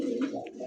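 A silver dom pigeon, a male, gives a brief soft coo, close and alone for under a second.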